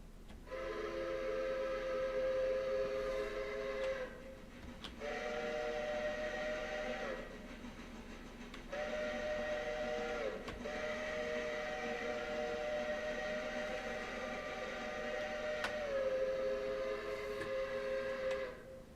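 A steam locomotive whistle in the video game Railroader sounds in four long, chord-like blasts separated by short gaps, the last one dipping slightly in pitch, loud and steady over a rumbling background with no talking.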